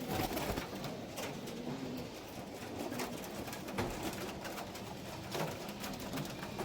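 Pigeons released by a breeder in Nabadwip coo repeatedly while wings flutter in short bursts, fairly close and without any talk.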